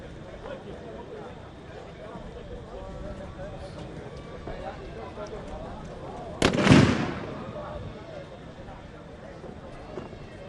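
A single sharp shot rings out at a police officer rescue challenge competition, one loud crack with a short decaying tail, heard over steady background talk and crowd noise.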